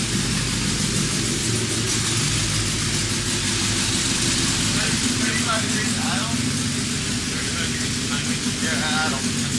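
A tuned Honda B16 engine in a street car, around 200 whp, holds a loud, steady, rumbling idle close by, with faint voices briefly audible over it.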